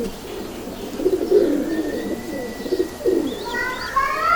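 A Ferozpuri or Rampuri female pigeon gives low, rolling coos in two bursts, fairly close, while other birds chirp thinly in the background.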